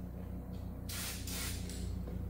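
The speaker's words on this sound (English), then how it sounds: "Look how much overspray there is." Spray paint hisses in two bursts from a can while refurbishing a 1964 Plymouth Fury, a close, loud airy spray of about a second, briefly broken, over a steady low hum.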